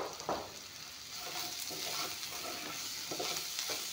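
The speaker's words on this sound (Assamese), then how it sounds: "এইখিনি অলপমান ভাজি ল'ম" Half a spoon of ground cumin and black pepper fries in a pan, making a soft, steady sizzle with a few gentle stirring scrapes, quiet and close with no talk.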